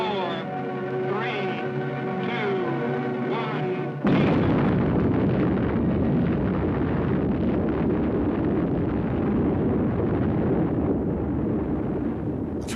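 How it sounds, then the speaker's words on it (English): The first full-scale hydrogen bomb test, on a reef island: after a sustained tone, a sudden massive roar erupts and holds as a dense, loud, continuous rumble for many seconds. "The first hydrogen bomb obliterated an island and blew a crater a mile wide in the reef"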